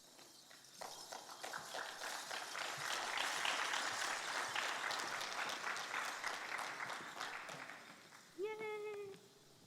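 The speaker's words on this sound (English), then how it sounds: "Thank you for your round of applause" Audience applause at a Miss Indian 2021 pageant show, a dense, steady wash of many hands clapping that swells and holds for several seconds, with a brief voice cutting in near the end.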